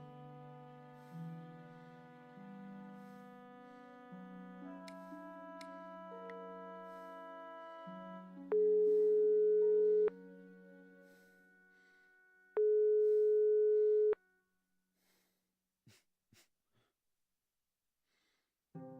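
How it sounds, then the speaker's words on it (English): An unanswered phone rings in the Broken Sword 5 video game: two long, loud, steady ring tones follow soft melodic notes, then a few faint clicks. "Nico still wasn't answering her phone."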